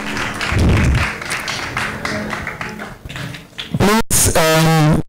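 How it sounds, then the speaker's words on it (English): Applause from an audience for two panelists at a film talk, clapping through the first few seconds before giving way to a burst of louder, tonal sound at the end. "a round of applause again to our two panelists"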